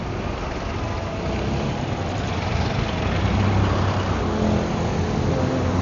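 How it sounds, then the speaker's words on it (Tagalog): Road traffic on a night street in Los Baños, Laguna, heard from a Suzuki Burgman Street 125 scooter: a continuous broadband rumble of engines and tires, loud and close, steady with a slight swell toward the end. "Grabe din yung traffic sa kabila."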